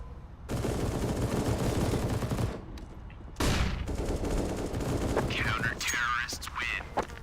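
Gunfire in CS:GO, including shotgun blasts, loud and close in dense overlapping bursts separated by short gaps, with a voice talking underneath.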